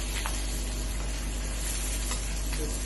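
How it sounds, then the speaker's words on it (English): Steak sizzling in a generous amount of butter in a pan as the butter is spooned over, a steady loud crackling hiss with faint spoon clinks and no talk. "just slowly spoon over the butter to cook the steak"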